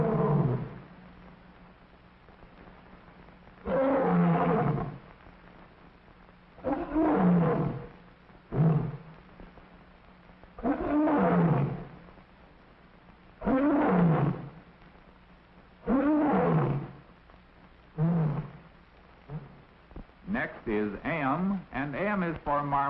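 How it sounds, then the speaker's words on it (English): An African lion at the Bronx Zoo's African plains exhibit roars in a series of loud, separate bursts about every two to three seconds, alone against a quiet background, followed by brief speech at the end. "They want to hear the lions roar"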